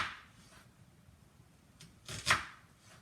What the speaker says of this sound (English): slicing up some onions that I'm gonna saute